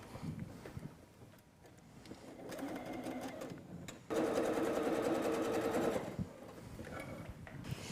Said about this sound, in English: And I'm going to sew them together